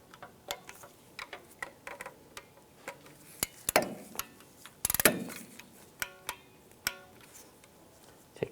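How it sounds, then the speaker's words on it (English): A torque wrench tightens bolts on a 4-wheel-drive actuator of a 2002-2009 Chevrolet Trailblazer, giving a quiet string of sharp ratcheting clicks in irregular bursts, with a louder cluster of clicks partway through and no voices. "And I'm going to torque those to 53 inch-pounds."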